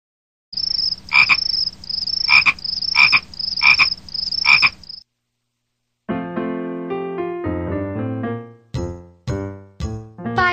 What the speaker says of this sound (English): 5 little speckled frogs.